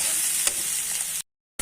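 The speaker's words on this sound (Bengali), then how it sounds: "আমার এদিকে আবার গাজর আর এগুলো একটু ভাজা ভাজা হয়ে যাবে" Carrots and egg fry in a pan for a homemade laddu, a loud close sizzle with one stirring scrape, then a brief silence before the sizzle returns.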